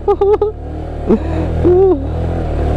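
A motorcycle engine hums steadily and close on a narrow rough road, with a few brief revving bursts and clattering jolts over the bumps.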